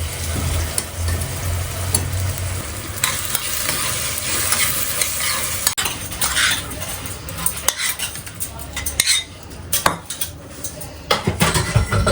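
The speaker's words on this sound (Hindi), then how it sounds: "दाल के तड़के के लिए मैंने देसी घी ले लिया है।" Dal tadka tempering in desi ghee with cumin and spices, sizzling steadily while a utensil scrapes and stirs the pan, with occasional metallic clinks of cookware throughout.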